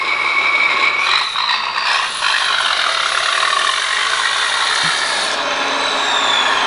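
Small motor and plastic gears of Alfy's International RC dump truck whir steadily and close, a continuous mechanical buzz with a brief dip near the start.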